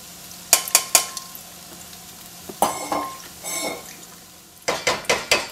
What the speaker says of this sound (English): You can always go tap, tap, tap on the side of a strainer to agitate your liquid